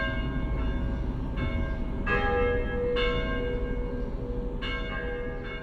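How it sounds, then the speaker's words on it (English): A bell rings repeatedly with clear metallic strikes that ring on and overlap, over a steady low hum. "a bell ringing, which should now be emanating directly above your head"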